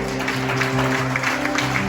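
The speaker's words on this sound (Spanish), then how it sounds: "Dale un aplauso fuerte al Rey" Steady applause from a church congregation at a Sunday service, a continuous wash of clapping over a sustained musical tone.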